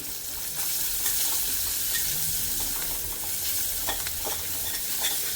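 Garlic sizzling and frying in a pan while being stirred, a steady bright crackle with occasional scraping clinks, close and continuous with no talk.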